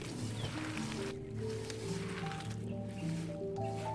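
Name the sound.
mixing lentils and vegetables with oil by hand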